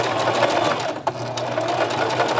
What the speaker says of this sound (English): So I'm going to stitch forward and backward.